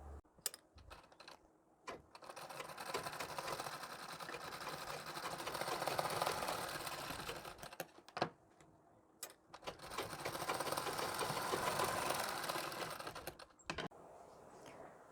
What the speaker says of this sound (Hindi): इस तरह से हमें मिला लेना है और यहाँ सिलाई लगा लेनी है।